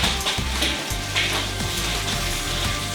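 Seasoned vegan ackee sizzling in a frying pan with thyme and onion powder, stirred around so the spoon scrapes and knocks softly in an uneven rhythm over a steady close frying hiss, with no talking.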